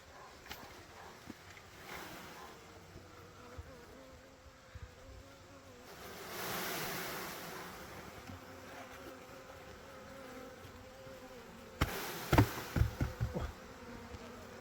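A honeybee swarm that has left its hive buzzes in a continuous faint drone outdoors, with a louder swell midway and some handling knocks toward the end.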